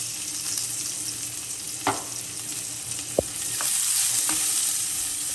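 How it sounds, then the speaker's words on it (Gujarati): Onions sautéing in a pan with curry leaves while making spiced poha with potatoes, giving a steady soft sizzle and frying hiss with a few stirring clinks and scrapes, close and continuous, no voices. "હવે આપણે આ ડુંગળી છે તે આપણે આમાં એડ કરી દઈશું અને આપણે સાંતળી લઈએ"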